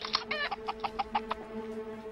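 A chicken clucking in a rapid run of short, choppy calls, close and clear over a faint steady background hum, used as a sound effect.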